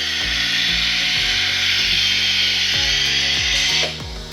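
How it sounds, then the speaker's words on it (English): A gas flush machine fills a small bag with gas before sealing on a Super Sealer SB20, giving a loud, steady hissing rush with a machine hum underneath that drops off sharply near the end. "we're putting gas in right now, gas going in"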